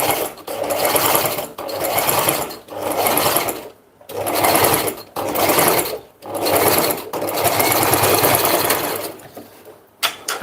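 A sewing machine stitches fabric with a steady mechanical whir, running in several bursts separated by brief stops, close and clear.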